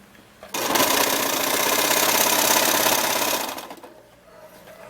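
A sewing machine stitches a single fabric seam for a simple elastic dress, starting abruptly with a dense, steady mechanical whir that runs about three seconds, then winds down and stops.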